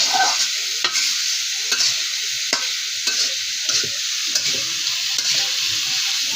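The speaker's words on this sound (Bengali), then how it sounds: "তেলটা গরম হয়ে গেছে, এবার সব কিছু দিয়ে দিলাম।" Bitter gourd and small potatoes fry in hot oil while being stirred, a constant bright sizzle broken by repeated scraping and clattering strokes of a spatula against the pan, with no speech.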